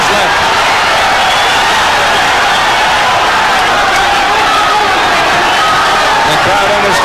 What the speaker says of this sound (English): The crowd understandably enjoying it.